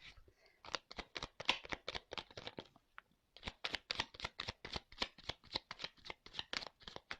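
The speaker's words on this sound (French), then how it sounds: "Je prends 2-3 cartes." Tarot cards are shuffled by hand close up in quick, crisp riffling flicks that pause briefly midway and then resume in a steady rapid rhythm, with no voices.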